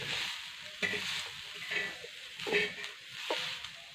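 Mandeli fish mixture with salt being stirred in a sizzling pan, repeated spoon scrapes against the pan in an uneven rhythm over a soft frying hiss, close up, no talking.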